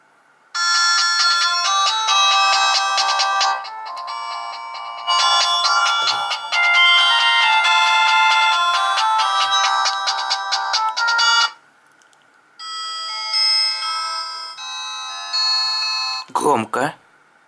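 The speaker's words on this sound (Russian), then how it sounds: "Что касается звонков, они все в MIDI-формате, но тем не менее можно проверить громкость динамика." A Philips E106 phone plays polyphonic MIDI ringtone melodies loudly through its small speaker, several tunes in turn separated by short pauses, with a brief handling noise at the end.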